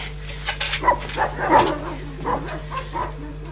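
A dog barks and yips several times in short bursts over a low steady hum, fairly close.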